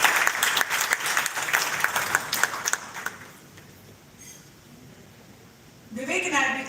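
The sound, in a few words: audience applause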